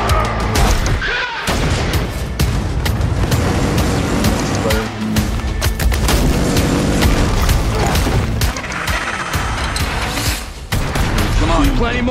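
Gunfire and booming explosions from a Call of Duty Cold War game trailer, loud and continuous with sharp bursts, heavy impacts and brief drops throughout.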